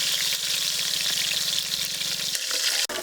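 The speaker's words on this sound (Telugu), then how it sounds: "ఇట్లా మసాలా బాగా పెట్టి నూనెలో గోలించుకోవాలి" Masala with tomatoes and green chillies sizzles loudly in hot oil for a fish curry, a steady crackling fry with faint stirring scrapes, ending in a brief clatter.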